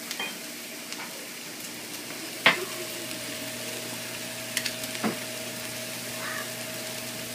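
Garlic cooks in olive oil in a pan with a faint, steady sizzle, broken by a few soft utensil taps and a light clink, alongside a low continuous hum.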